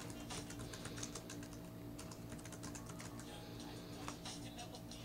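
Fingers type on a computer keyboard to enter a search, producing quick, light clicking keystrokes in uneven bursts, faint and close, with no speech over them.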